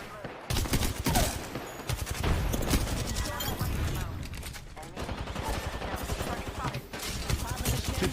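Continuous rapid gunfire in Apex Legends rattles loudly and densely from start to finish, with voices mixed into the fighting.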